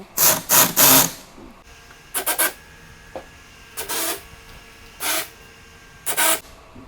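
A pneumatic gun fastens a speaker grille onto a cabinet, producing several short, sharp hissing bursts, some in quick doubles or triples, separated by quiet pauses, close and fairly loud with no talk.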